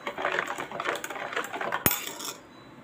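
A spoon stirs milk and sugar in a metal vessel while sweet idiyappam is being made, producing a steady run of close clinks and scrapes that ends with one sharp knock and fades.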